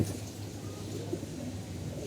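Pigeons coo softly in a loft, a low, faint, steady murmur of calls with one slightly clearer note midway.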